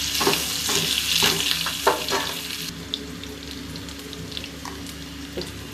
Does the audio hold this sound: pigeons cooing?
no